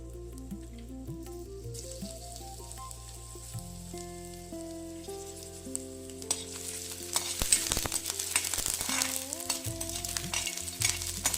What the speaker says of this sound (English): Also add a little crushed garlic to the oil and stir it.